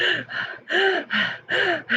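A person imitates fast, shallow chest breathing, with quick loud in-and-out breaths in a steady rhythm of about six short gasping pulls, close up and alone.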